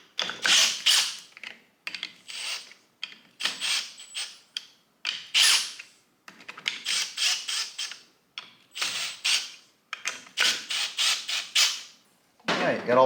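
Bolts come off the clutch cover of a 1987 Harley-Davidson FXRS motorcycle, worked back and forth evenly with a ratchet: repeated bursts of rapid metallic clicking and creaking, close and clear, separated by short pauses, with no talking.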